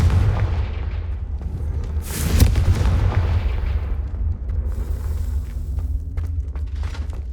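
A Confringo fire spell in Hogwarts Legacy bursting with a deep, rumbling boom, loud and close, followed by a lingering low roar and crackling debris.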